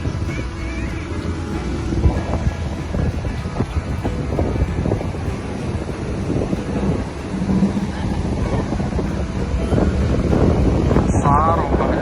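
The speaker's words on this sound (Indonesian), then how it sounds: "Besar ombaknya, angin kencang," Strong wind buffeting the microphone over the steady roar of heavy surf at Pantai Panjang beach in Bengkulu, Indonesia, continuous and loud throughout.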